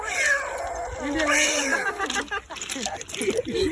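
A voice imitates a cat's meow, drawn-out wavering mewing calls repeated several times, close and fairly loud.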